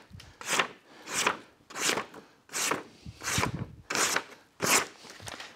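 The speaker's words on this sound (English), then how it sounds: "Little paper cut test" Seven rhythmic crisp slicing strokes of a Quangsheng low angle rebating block plane blade cutting paper, each a quick papery swish about once per second, close and clear with no talking.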